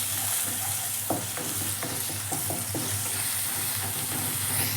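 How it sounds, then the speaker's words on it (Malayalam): Turmeric, coriander and pepper powder masala for beef macaroni is stirred in a hot pan, a continuous near sizzle broken by repeated scraping strokes of the spoon, with no voices. "മഞ്ഞൾപ്പൊടി പിന്നെ മല്ലിപ്പൊടി മസാല നമുക്ക് നന്നായി മിക്സ് ആക്കി കൊടുക്കാം"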